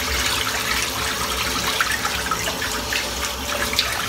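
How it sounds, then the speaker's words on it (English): Tap water pours steadily into a bathroom sink being filled for shaving lather, a continuous close rushing splash throughout with no talking. "I prefer to fill the sink up with about that much water"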